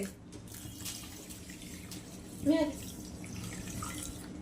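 A glass of water is poured into sugar to make syrup for balushahi in a home kitchen, heard as a brief splashing burst midway over a steady low background hum.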